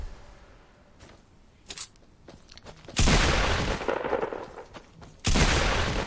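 Automatic gunfire in Fortnite on Android, loud rapid bursts erupting in two sustained volleys after a few scattered single shots.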